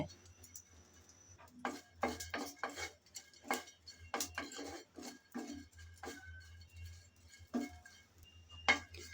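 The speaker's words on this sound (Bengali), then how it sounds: "শুটকি কিছুক্ষণ নেড়ে চেড়ে ভেজে নিলাম" Dried shrimp (shutki) being stirred and fried in a pan: a string of sharp metallic scrapes and clinks from a spatula against the pan, irregular and close, over a low steady hum.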